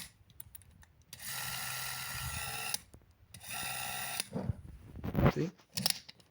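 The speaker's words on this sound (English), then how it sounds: "this here is your shutter button." A Pathé Scope 9.5mm motion picture camera's motor whirs in two sustained bursts, each about a second and a half long, separated by quiet mechanical clicks and a handled rattle.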